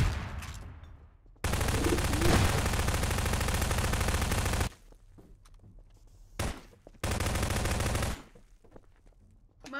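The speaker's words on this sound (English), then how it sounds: "That's a lot of gunfire." Long bursts of rapid automatic gunfire in a video game, loud and dense, separated by short quiet gaps with a brief single shot between them.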